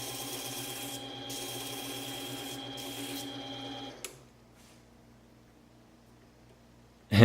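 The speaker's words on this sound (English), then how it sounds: "We're going to take this relatively high grit sandpaper and a makeshift sanding block to give this a quick sand." High-grit sandpaper on a makeshift sanding block rubs over the raised edges of a Damascus steel ring in a steady, even scratching that runs for about four seconds, then stops, leaving quiet until a brief knock at the end.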